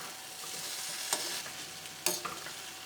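Cauliflower and potato masala sizzles softly in a pan as a spoon stirs it, with two distinct scraping clatters against the pan over a low hiss.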